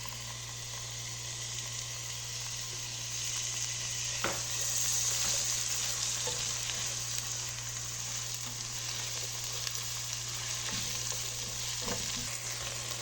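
Chopped tomato going into a pan of softened onion and garlic, a steady close sizzle and frying hiss with a few brief stirring clicks, continuous and without speech.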